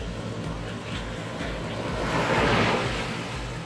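Ocean waves washing onto a beach, a continuous rushing surf with a swelling wash that peaks midway, mixed with wind buffeting the microphone, close and without talk.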